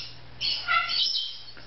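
Female Indian Ringneck parakeets kept as breeders call from their cage, giving a short burst of shrill squawks and chirps over a quiet low hum, fairly close and loud.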